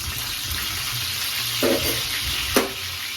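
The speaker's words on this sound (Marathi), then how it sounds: "सगळ्यात पहिल्यांदा टाकते मी कढीपत्ता." Curry leaves dropped into hot oil in a pan, a steady close sizzle and crackle with a couple of brief stirring scrapes.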